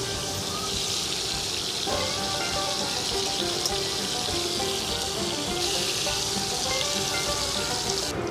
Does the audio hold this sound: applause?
no